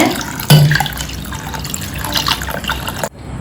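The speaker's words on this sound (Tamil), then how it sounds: "இப்போ நல்லா பருப்பு முங்குற அளவுக்கு தண்ணி சேர்த்துக்கோங்க" Water poured into a pot of lentils, with chopped tomato and garlic, while making Madurai small-onion sambar. A steady splashing pour starts abruptly, runs evenly for a few seconds and then cuts off. No talking.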